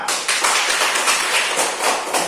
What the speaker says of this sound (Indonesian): tepuk tangan untuk kelompok Umar.